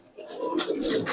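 Silver and Beji pigeons coo in low, throaty rolls at close range, the soft murmuring swelling and overlapping through the moment with no talking.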